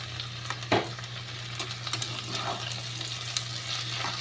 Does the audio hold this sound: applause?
no